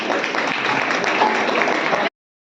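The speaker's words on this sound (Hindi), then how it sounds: "जिस जिसके हाथ में ग्लास है उन सबके लिए एक जोरदार तालियां।" A room of trainees at a teachers' training program bursts into loud, dense applause, a steady wash of many hands clapping close by for about two seconds before stopping sharply.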